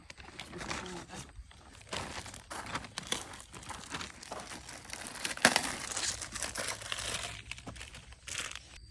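Mushroom spawn blocks for straw mushroom growing are crumbled by hand outdoors, a continuous close crinkling, crunching and tearing texture with scattered louder bursts.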